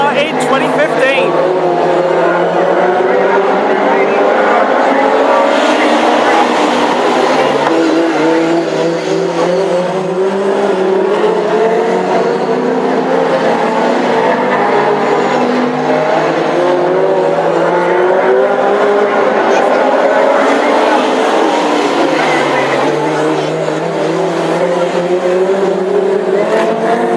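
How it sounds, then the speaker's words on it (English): A Ford Pinto hot rod race car roars through a long stretch of sustained engine noise at a Northampton classic hot rod heat, loud and continuous with shifting revs, tyre noise and a commentator talking over it. "Really making that Pinto roar"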